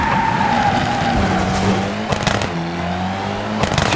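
A WRC 2 rally car skids under the handbrake through a hairpin, tires squealing long and loud over a droning engine that shifts pitch, with a short co-driver call nearby.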